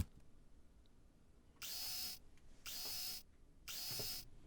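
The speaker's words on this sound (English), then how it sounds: "And now we use the dentist drill on the pipe." A dentist drill is run against a pipe in the point-and-click game Deponia: three separate bursts of high whining buzz, each about half a second long and evenly spaced, against a quiet background.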